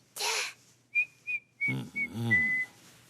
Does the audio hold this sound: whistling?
yes